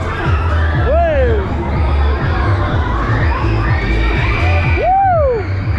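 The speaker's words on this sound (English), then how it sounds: "we got some screams going on here today" Riders scream and whoop together on a spinning fairground ride at a seaside pier, a loud continuous crowd din with shrill rising shrieks standing out near the start and again near the end.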